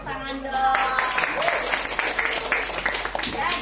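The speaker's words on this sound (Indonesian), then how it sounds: "Tepuk tangan dong." Audience applause at a beauty product presentation, a fairly loud burst of many hands clapping mixed with a speaking voice over the crowd.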